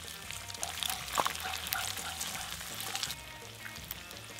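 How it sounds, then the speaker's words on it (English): Free-range eggs poured into a hot pan for Argentine revuelto de gramajo, a soft liquid pour followed by faint, quiet sizzling and crackling. "And now I will add my scrambled egg, my eggs first, which will become scrambled, free-range eggs."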